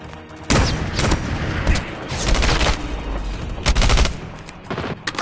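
Rapid gunfire bursts in Call of Duty Mobile, loud and close, with repeated volleys separated by brief lulls and a low booming undertone.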